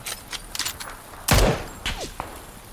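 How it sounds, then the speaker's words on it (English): Gunfire in the video game PUBG as enemies shoot down from rocks: several scattered cracks of shots, with one loud, heavy blast standing out in the middle and smaller pops after it. "Guys from the top rocks are shooting down on us."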